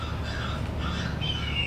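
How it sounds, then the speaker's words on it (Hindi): Kites and crows caw and squawk in a harsh overlapping chorus, several rough calls rising over a steady low rumble, heard during a stage theatre performance. "ये चील कौओं की भयानक आवाजें कहां से आ रही है?"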